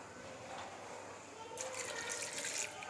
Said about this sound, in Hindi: इसमें हम पानी ऐड करेंगे